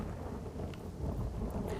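Monsoon rain pours down while deep, continuous thunder rumbles beneath it, a brief, dense wash of low roar and steady hiss with no voices.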